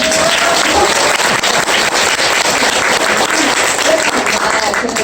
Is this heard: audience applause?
yes